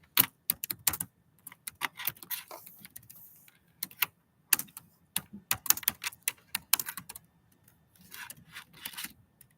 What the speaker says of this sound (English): I'm going to type my information in again, and then Alati can type hers in.